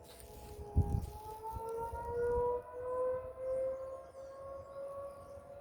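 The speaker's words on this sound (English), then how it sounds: "I would assume these sirens have been in function for a very long time." An outdoor civil defense tornado siren sounds in Jackson, Tennessee on a windy, cloudy day, its long wailing tone slowly rising and holding steady, fairly distant and carrying over gusty wind noise.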